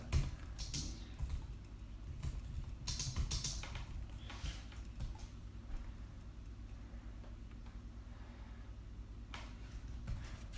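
Soft clicking of a computer keyboard with short bursts of keystrokes, quiet and close, separated by pauses, no voices.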